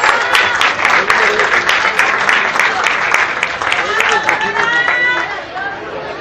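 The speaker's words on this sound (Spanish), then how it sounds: "Fuerte aplauso para Samuel Berras y para Aldebarán Rivera" Crowd at an amateur youth boxing event applauding two boxers, steady loud clapping mixed with cheering and chatter throughout, fading slightly at the end.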